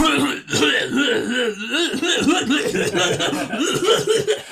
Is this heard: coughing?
yes